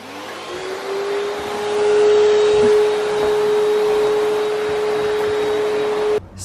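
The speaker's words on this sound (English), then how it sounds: "But I'm going to just vacuum this really quick." A vacuum cleaner runs over a rug in a home, starting up and holding a loud, steady whine, close by and with no talk, before cutting off at the end.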